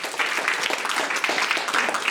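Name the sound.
audience applause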